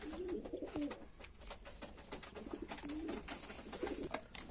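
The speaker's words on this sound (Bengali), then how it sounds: "তো বন্ধুরা এবার কিছু হাই ফ্লায়ার পিজন দেখাচ্ছি দেখুন।" Pigeons coo repeatedly in low, rolling bursts among pet birds including Punjabi Malbai and Madras pigeons, with steady background noise and no talking.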